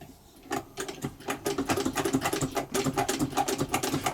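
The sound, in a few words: Singer 66 sewing machine stitching leather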